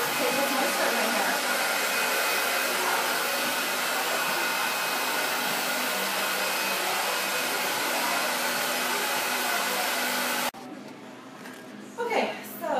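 A hair dryer on medium heat and high power blow-drying curly, coarse hair gives a loud, steady whooshing roar for about ten seconds before switching off, followed by softer handling sounds.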